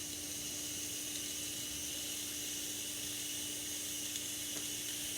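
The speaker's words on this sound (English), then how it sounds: "Sizzling sound." Steady, even hiss of peaches grilling in butter or coconut oil in a hot pan, constant and close throughout with no talking.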